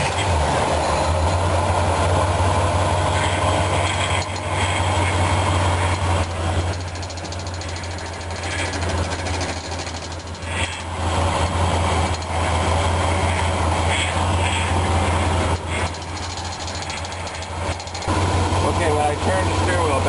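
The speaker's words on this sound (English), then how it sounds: "when I turn the steering wheel back and forth, you hear that cavitation noise" A power steering pump with air still in the fluid cavitates while the steering wheel is turned back and forth during a pump and hose replacement. Its steady whine and groan sits over a loud, continuous engine hum throughout.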